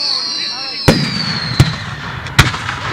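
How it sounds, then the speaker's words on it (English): Three sharp fireworks bursts crack out at a Fourth of July celebration, spaced under a second apart against steady background hiss, with people chattering nearby. "These are my fireworks."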